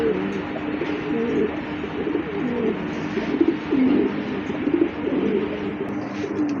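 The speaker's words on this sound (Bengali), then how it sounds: "আরেক জোড়া কবুতর দেখতে পাচ্ছেন" Pigeons, including a pair of grizzles kept for sale, coo in low repeated throaty murmurs that run steadily and close up, with no talk over them.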